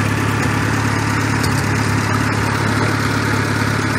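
Steady, loud Farmall tractor engine drone idling and running without pause, a continuous low mechanical rumble with no voices.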